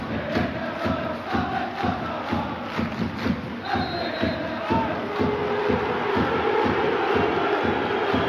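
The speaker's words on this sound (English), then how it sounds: "Celtic fans respond to the minute's applause." Celtic football fans in a stadium during a minute's applause, a dense crowd roar with rhythmic clapping and chanting that pulses steadily and sounds somewhat distant and reverberant.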